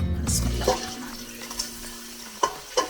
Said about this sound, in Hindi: तो ये जरा गर्म हो गया है तो इसमें मैंने एक मीडियम साइज का प्याज ले लिया है, इसको डाल देंगे